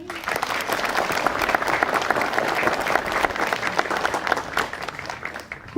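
Sustained applause from the crowd at the GTI Tedim opening ceremony, a dense steady patter of many hands clapping for several seconds.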